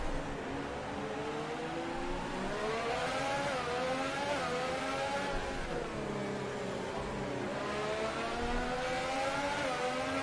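F1 car engines on a slow formation lap in F1 2018, a continuous whining drone that rises and falls in pitch as the cars accelerate and ease off, moderately quiet with no talking.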